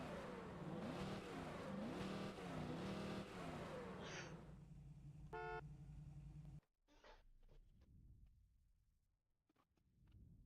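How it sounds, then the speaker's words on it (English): A car engine revs in the racing game Test Drive Unlimited Solar Crown, a loud rising and falling engine roar for several seconds, then a short beep and a sudden drop to quieter clicks and rumble. "You can rev it."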